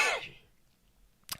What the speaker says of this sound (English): I have a bad cough for some reason